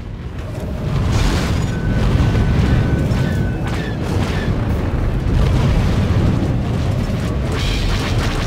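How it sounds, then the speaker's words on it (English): Star Wars: The Old Republic space combat missiles explode in a steady, loud, rumbling roar of overlapping blasts and booms that runs for several seconds without letting up. "Missiles."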